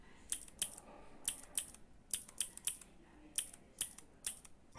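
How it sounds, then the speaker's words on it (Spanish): Clicky Gateron Blue mechanical keyboard switch pressed repeatedly, each press a sharp bright click, about a dozen irregularly spaced presses heard close up with no talking. "yo he comprado el Switch Blue, que es el que emite el famoso sonido clicky al pulsar."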